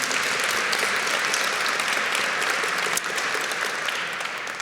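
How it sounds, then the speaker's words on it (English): Loud, even round of applause from the crowd at a Black History Month celebration, continuous close clapping holding steady throughout. "Let's give them a big round of applause if we can."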